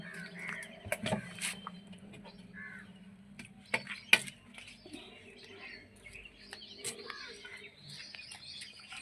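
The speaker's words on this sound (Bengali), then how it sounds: "বসন্ত পঞ্চমীর দিন সকাল সকাল পাখির কুজন শোনা যাচ্ছে আকাশে বাতাসে।" Birds on a foggy early spring morning: crows cawing and smaller birds chirping outdoors, scattered calls at moderate distance over a quiet background.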